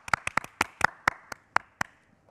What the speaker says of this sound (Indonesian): Tepuk tangan buat Mas Wira.